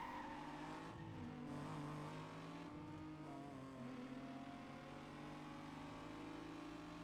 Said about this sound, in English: Eclipse sounds pretty beefy too for it's only a stock engine.